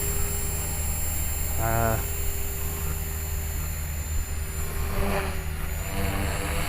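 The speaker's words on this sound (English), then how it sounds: "The helicopter is very stable in this setup." A steady mechanical whine of an HK-450GT flybarless RC helicopter droning continuously nearby, with a constant hum and slight shifts in pitch throughout.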